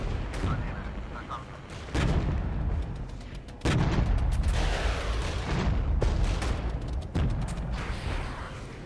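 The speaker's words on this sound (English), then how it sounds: "A lot of artillery coming in." Artillery barrages in the war strategy game Regiments, heavy booming impacts landing in repeated waves about every two seconds, each followed by a rumbling decay, loud and close, with a voice occasionally talking over them.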